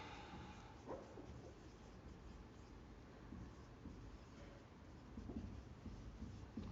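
A marker or chalk scratches across a board during a lesson in short, faint strokes, quiet and close with no speech.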